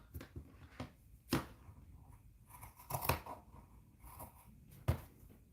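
Sewing scissors trim the raw fabric edges of handmade preemie shorts and a hat, giving a steady run of close, crisp snips and crunches with a few louder cuts spaced through, and no voices.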